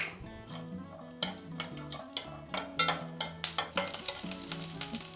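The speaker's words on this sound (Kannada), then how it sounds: "ಈಗ ಒಂದು ಸ್ವಲ್ಪ ಎಣ್ಣೆ ಹಾಕ್ಬಿಟ್ಟು ಬೆಳ್ಳುಳ್ಳಿ ಇತ್ತಲ್ಲ ಅದನ್ನ ಸ್ವಲ್ಪ ಬಾಡಿಸ್ಕೊಳ್ಳೋದು" Garlic is sautéed in oil for gongura chutney while a spoon stirs the pan, giving close, repeated scraping clinks over a soft sizzle in an uneven rhythm.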